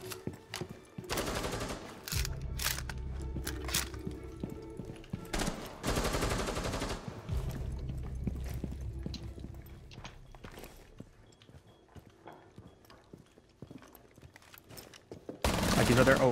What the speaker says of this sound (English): There's three shotgun blasts.